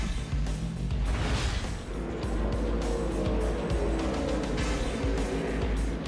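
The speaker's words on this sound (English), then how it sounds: "Kyle Petty gets into the back of Biffle, going into the inner loop" NASCAR stock cars racing at Watkins Glen during the 2006 AMD event, a loud continuous engine roar from nearby cars with shifting pitch as they pass, no talk over it.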